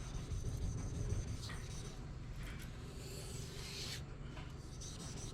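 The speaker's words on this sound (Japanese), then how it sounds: "それがその研磨剤が立ってしっかりと削っていく感じの音がそれなんですよね" A synthetic whetstone rasps steadily as its abrasive grit bites, a continuous gritty scraping that is faint and close with no talk over it.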